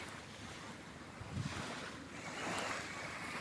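Sea waves wash onto the shore in the early morning, a continuous hiss of surf with gentle swells rising and falling, mixed with wind buffeting the microphone.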